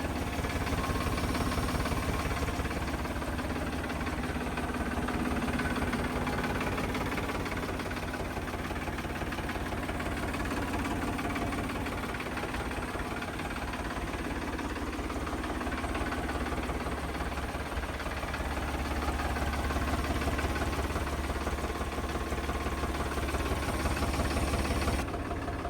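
A 2023 Mahindra Evo Tech Plus 575 DI tractor diesel engine idles in a steady, even rumble from start to finish, with no talk over it.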